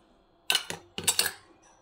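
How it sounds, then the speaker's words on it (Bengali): An egg is cracked into a bowl of mashed beetroot mixed with chili, nigella seeds, salt and turmeric: a few quick, sharp, close taps and a soft crack, quiet against a silent background. "এর মধ্যে একটা ডিম ফাটিয়ে দিচ্ছি"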